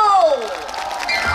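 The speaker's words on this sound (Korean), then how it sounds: "박수!" An audience claps along at the Seorak Cultural Festival closing ceremony as a singer launches a twist medley, a brief patter of hands under a sliding sung note and music.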